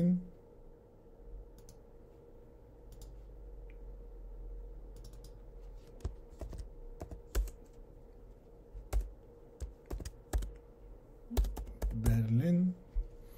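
Computer keyboard typing on a desktop setup, with quick irregular bursts of clicky keystrokes rising over a low steady hum, ending in a denser flurry of taps.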